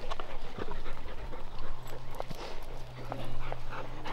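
Hunting dogs panting and padding along at the edge of the woods on an upland bird hunt in Tennessee, close rhythmic breathing with light footsteps and a low steady hum beneath.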